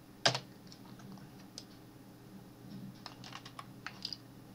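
Single computer keyboard keys pressed while working in 3Ds Max 2018, one sharp near click followed by a few fainter scattered taps over a quiet background hum.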